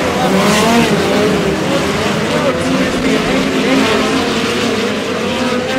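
Midget race cars of the POWRi West Midget League at Airport Raceway, racing in a tight pack, make a loud, continuous, sustained engine roar with shifting pitch, and a voice is faintly heard over it.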